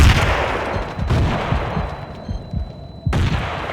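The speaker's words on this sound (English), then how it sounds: "Frag grenade." Frag grenade blast in Battlefield 2, a loud sharp boom near the start followed by crackling gunfire and a second heavy burst near the end, all in a dense, continuous battle din.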